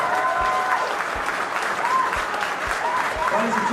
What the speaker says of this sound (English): can we have a round of applause for all of the staff here tonight?